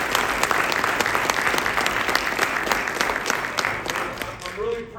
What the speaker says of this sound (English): So let's clap it up for them.